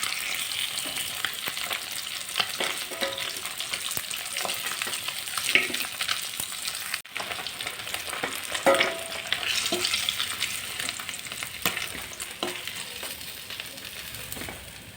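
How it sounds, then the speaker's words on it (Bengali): Fish fries in hot oil with a continuous crackling sizzle, close and moderately loud, with scattered pops and occasional utensil scrapes across the whole span. "বাকি মাছগুলো একইভাবে ভেজে নেব।"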